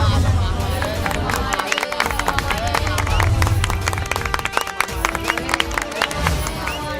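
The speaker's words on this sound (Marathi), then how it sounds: "झालं का वाजवून टाळ्या?" Villagers gathered for a speech clap in a loose, uneven patter of many hands, close and lively, mixed with crowd murmur and people talking over it throughout.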